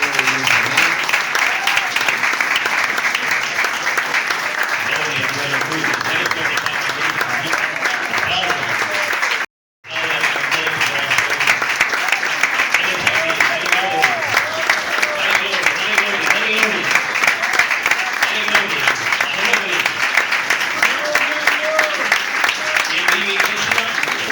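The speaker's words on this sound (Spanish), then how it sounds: "con fuertes palmas alegres para Cristo, vamos a recibir la" A congregation at a Pentecostal church service claps hard and continuously, dense joyful applause filling the room, with one momentary break midway before it resumes just as strongly.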